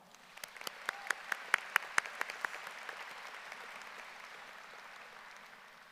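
Applause for graduates' families at a high school graduation ceremony, a soft crowd clapping heard from a distance, with a run of sharp, rhythmic individual claps standing out near the start before settling into a faint steady patter.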